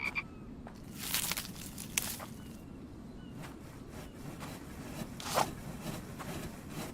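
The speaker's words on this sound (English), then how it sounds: "One frog." Frog croaking in a video game survival setting, a rough rasping call repeated several times over a steady low background hum, moderately quiet and without voices.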